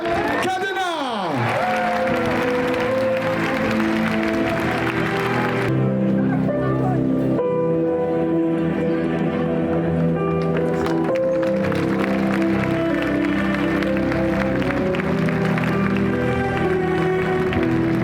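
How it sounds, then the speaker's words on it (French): Big crowd applauding a raseteur at an Arles bullfighting arena during the Cocarde d'or, the clapping sustained and loud, mixed with cheering and steady band music throughout, with voices underneath. "Je voudrais s'il vous plaît un tonnerre d'applaudissements pour le raseteur Joachim Cadena"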